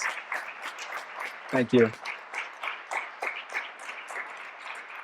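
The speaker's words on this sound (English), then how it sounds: "please, give a big round of applause to my parents" Light audience applause at an architecture awards ceremony, a soft patter of clapping hands at a moderate distance, while a voice speaks briefly over it.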